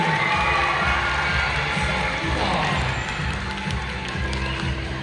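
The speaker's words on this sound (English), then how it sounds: "Everybody give them a big clapping." Audience at a dolphinarium seal show in Dubai cheering and clapping, a loud continuous crowd roar with children's shouts over a booming announcer's voice throughout.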